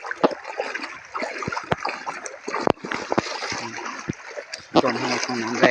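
Floodwater flowing into a home area, with splashing and trickling water punctuated by sharp knocks and splatters, fairly faint and close, with people talking intermittently.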